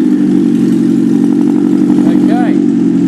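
Engine of a 3/5 scale Leopard 2A6 tank replica running at a steady idle, a loud continuous low drone with a brief rising tonal whine near the end.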